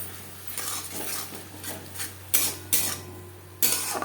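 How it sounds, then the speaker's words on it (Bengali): Spices stirred into onion and garlic in a pan for a silver carp fish curry: soft scraping strokes build to three sharp, loud scrapes near the end, over a steady low hum. "পেঁয়াজ রসুনের সাথে মশলা বেশ ভালো করে মিক্সড করে দেবেন"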